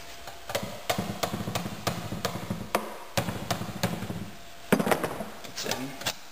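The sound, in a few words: hammer tapping a part in during a Honda CRF 150R rear tire change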